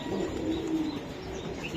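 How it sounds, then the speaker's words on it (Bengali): Racing homer pigeons cooing in a low, throaty murmur that runs continuously with soft chirps over steady background noise. "এটা কি জাতের কবুতর"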